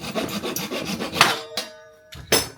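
A hand saw cuts through a wooden ranch-fence post shaped with a diamond point, a close rasping series of strokes that slows, pauses, then resumes with a final couple of pulls.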